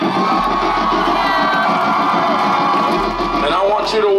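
A large concert crowd at a rock show aboard a cruise ship cheers and whoops loudly and continuously, a dense roar of shouting voices filling the space.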